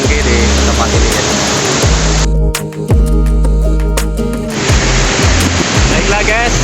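Pondok Lengki waterfall in a forest, a loud broadband roar of falling water close by, continuous with a brief dip midway, with some low rumbling mixed in.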